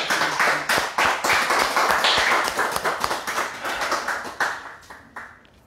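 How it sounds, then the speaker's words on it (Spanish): Applause from a church congregation: a burst of brisk hand claps that stays steady, then thins out and fades toward the end, with no talking over it. "Un aplauso para mi mamá."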